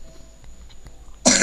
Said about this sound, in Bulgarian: Значи това моето кашляне ще направи голям проблем